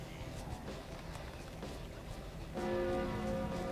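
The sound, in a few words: bell ringing in the video game Overlord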